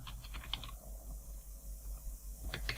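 Keys on a computer keyboard are struck in short bursts as a command is entered on the command line, with a quiet pause in between before typing resumes, close and fairly soft.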